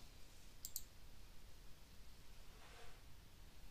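A double mouse click in Flipgrid, sharp and close against faint background hiss, followed by a softer rustle.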